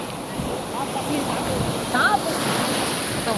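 Ocean waves wash steadily onto the beach at Karaikal in Pondicherry district, a continuous loud roar of surf with a brief swell, and muffled voices sit faintly beneath it.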